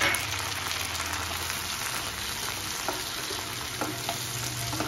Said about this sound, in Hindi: अब इन सबको हम 2 मिनट अच्छे से फ्राई कर लेंगे